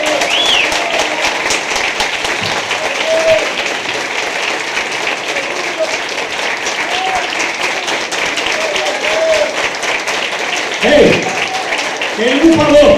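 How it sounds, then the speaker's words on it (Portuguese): A church congregation applauds for a long time in a loud, steady wash of clapping, with voices and cheers mixed in throughout. "dar uma grande salva de palmas para ele"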